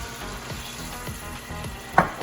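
Steady close sizzling of wine hitting a hot pan, a bright crackle of frying with a sharper pop near the end.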